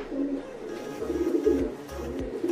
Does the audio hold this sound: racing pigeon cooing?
yes